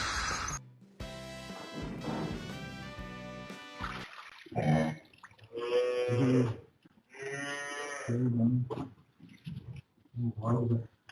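Dairy cows on an Irish farm bawl repeatedly at nearby sheep, loud and close, long drawn-out moos following one another with short pauses.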